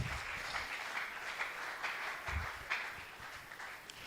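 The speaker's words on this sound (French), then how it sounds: "est-ce qu'on peut un peu acclamer pour la gloire de Dieu?" A church congregation applauds and cheers in praise, a dense wash of clapping at moderate distance with a few louder bursts, and no clear speech.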